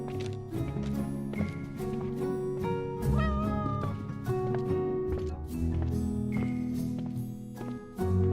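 A cat meows within the Honor of Kings mobile game, wavering rising calls set among layered musical tones and game effects, steady and fairly loud across several seconds.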